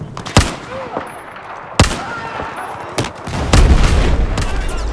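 Carbine gunfire in Battlefield 4, several sharp, loud, close single shots spaced a second or so apart, then a heavier burst of firing near the end, over a noisy battlefield background.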